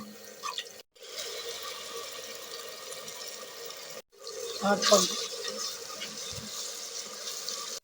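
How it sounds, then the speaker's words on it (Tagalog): Water is poured into a pot of noodles on the stove in a home kitchen, a steady splashing and trickling that pauses twice and swells near the end, with a voice speaking faintly over it. "lagyan ng tubig."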